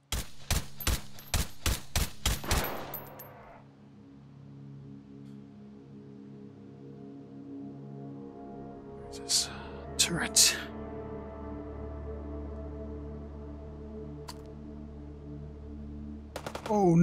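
A quick string of about eight sharp semi-automatic shots opens a round in the VR shooter Hot Dogs, Horseshoes & Hand Grenades on an HTC Vive, followed by a lull and a few more scattered shots, with someone talking.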